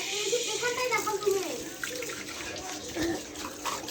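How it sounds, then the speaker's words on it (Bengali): Spoons washed under a running kitchen tap: steady close splashing water, with a voice speaking over it. "আগে চামচ ঠামচ সব কিছু ধুবো তো"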